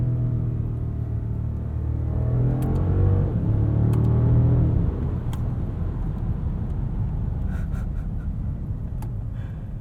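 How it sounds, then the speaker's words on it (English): A 2021 Mercedes-Benz S580 4MATIC's V8 hums steadily from inside the cabin, its tone rising and then dropping through smooth shifts in sport mode, with road rumble underneath and a few faint clicks. "V8 sounds good too."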